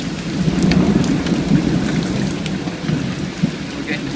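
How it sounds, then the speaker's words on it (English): Hail and strong wind batter down during a tornado storm, a loud, dense roar of pelting ice and gusting air with heavy low rumble, continuous and close throughout. "We're getting hail and serious wind right now."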